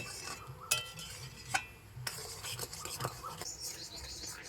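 Jaggery dissolved in water being stirred in a pot for raw mango pickle, with scattered light clinks and scrapes of a spoon against the pot at irregular intervals, fairly quiet with soft background noise.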